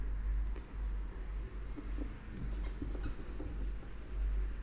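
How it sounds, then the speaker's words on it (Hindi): Marker or chalk scratching across a classroom board during a chemistry lesson, a steady run of short strokes and taps over a constant low hum, fairly close with no talking. "मैं यहाँ पे लिख देती हूँ"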